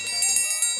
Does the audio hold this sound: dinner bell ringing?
yes